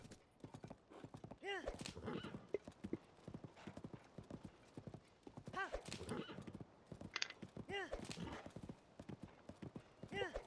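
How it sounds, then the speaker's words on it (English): A skeleton horse in Zelda: Tears of the Kingdom trots along, rhythmic clip-clopping hooves repeating steadily at moderate loudness, with occasional snorts and whinnies mixed in. "Why not ride a skeleton horse to it?"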